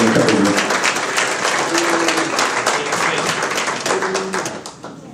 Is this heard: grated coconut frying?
no